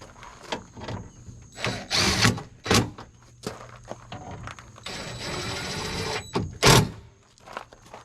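A cordless impact wrench snugs down bolts while a Silverado window regulator and motor are replaced, giving several short, fairly close bursts of whirring and hammering between quiet pauses.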